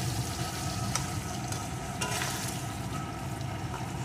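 Chilli chicken sauce being stirred and mixed in a hot pan, a steady close sizzle of frying with scraping spoon strokes against the metal running throughout.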